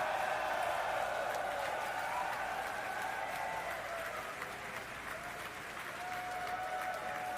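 A crowd of colleagues gathered outside mission control in Hawthorne, California applauds and cheers steadily throughout, a dense, continuous wash of clapping with whoops heard at some distance.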